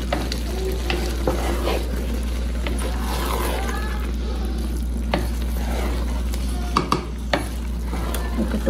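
A spoon stirs biryani rice in a new pot with steady scraping and soft sizzling, mixing it evenly alongside a low constant hum, while a voice talks quietly now and then.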